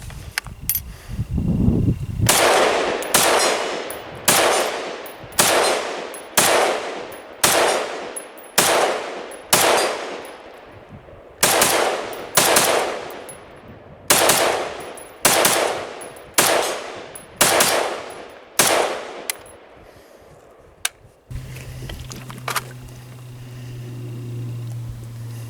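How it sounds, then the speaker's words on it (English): Steyr AUG rifle with upgraded parts fired outdoors at a steel plate target, about sixteen loud sharp shots in a steady, evenly spaced rhythm, each ringing off before the next, then quiet. "So let's do some shooting."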